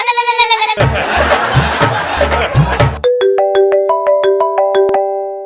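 A melodic phone ringtone with bright repeating tones plays near and loud, following a burst of noisy crowd-like sound and bleating.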